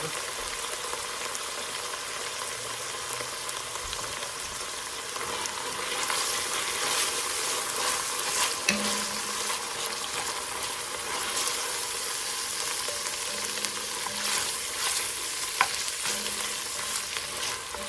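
Garlic and butter sizzle in a pan as the butter melts for a creamy tomato spaghetti sauce, a dense, even frying hiss that holds steady at close range with a few faint clinks and no talking.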